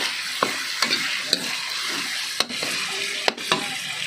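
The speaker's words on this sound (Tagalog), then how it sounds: "Guys, magigisan tayo." Ground meat sautés in a pan for ginisang upo with bottle gourd, giving a steady, close sizzle broken by sharp clicks and scrapes of a stirring utensil, with no voices.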